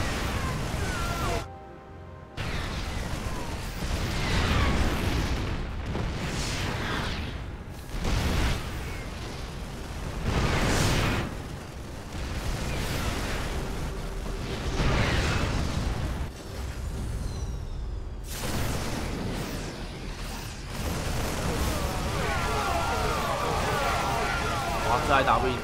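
Repeated explosions rumble and burst across a base during a StarCraft-style real-time strategy match, loud bangs rising and falling over continuous battle noise, with a commentator talking throughout.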